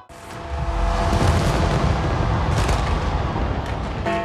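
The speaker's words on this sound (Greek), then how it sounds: "να απολαύσουν το σοου με τα πυροτεχνήματα" Continuous dense crackling and booming of a big New Year fireworks display at the Brandenburg Gate in Berlin, loud and sustained, with overlapping bangs and pops throughout.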